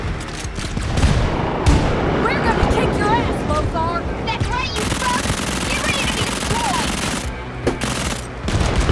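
Rapid submachine pistol fire rattles in Wolfenstein: Youngblood co-op play, with continuous loud bursts layered with explosions and battle noise while players talk over the action.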